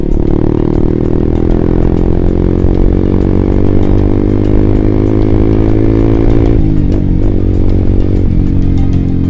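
A Honda CBR 150R motorcycle pulls hard in fourth gear, its engine a loud, steady buzzing drone that climbs in pitch before a brief shift-like dip near the end, heard close with no talking.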